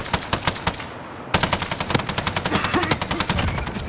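Rapid automatic gunfire in Call of Duty: Modern Warfare, loud sharp bursts of evenly spaced shots, one short burst, a brief pause, then a longer steady stream, close and dominant.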